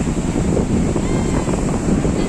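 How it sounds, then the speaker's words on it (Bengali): Rough surf on the Bay of Bengal at Digha beach at dawn roars in a dense, continuous wash, with heavy wind buffeting the microphone throughout. "দেখুন সমুদ্র কিরকম উত্তাল, দেখতে পাচ্ছেন সমুদ্র হেভি উত্তাল"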